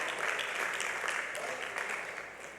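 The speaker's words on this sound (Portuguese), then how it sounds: "merece uma gloriosa salva de palmas" A church congregation breaks into a brief round of applause, a fairly quiet but continuous patter of clapping that eases off toward the end.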